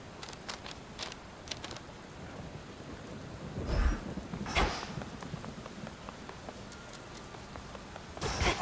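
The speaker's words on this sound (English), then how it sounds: "Raining again." Steady rain hiss in the video game Hades 2, with soft patter throughout and a few brief louder bursts like distant thunder rumbles, no talk.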